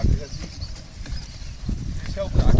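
A horse at a stud farm clip-clops with hooves at close range in an uneven rhythm, with people talking over it throughout.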